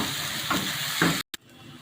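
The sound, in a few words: onions frying in a pan for okra curry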